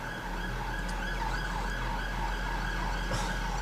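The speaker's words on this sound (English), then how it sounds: "Don't know if you can hear that police siren." A police siren wails steadily in the distance in London, faint but continuous, rising and falling over a low background hum.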